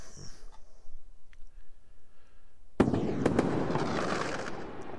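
Faint crackles and pops give way to a sudden loud burst of fireworks in a game engine, followed by sustained crackling and fizzing.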